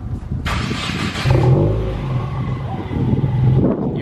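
A Subaru WRX with a MagnaFlow axle-back exhaust and muffler delete cold-starts, cranking and catching, then roars loudly with a deep, raspy exhaust before settling toward a rumbling idle, close by.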